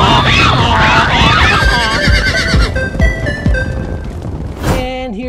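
A toy horse voiced for He-Man with a loud, wavering horse whinny up close, followed by booming hits and musical tones, with a spoken voice briefly mixed in.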